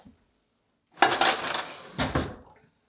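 Dishes being handled in a dining room sideboard cabinet, two close clattering bursts of clinking ceramic about a second apart, each ringing briefly before quiet.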